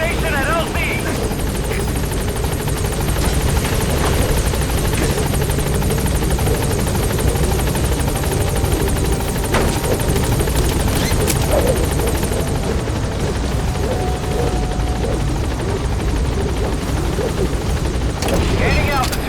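A Metal Gear Solid V helicopter arrives at a landing zone with a loud, continuous rotor roar and steady thudding blade chop throughout, joined by scattered distant gunfire and radio-style voices.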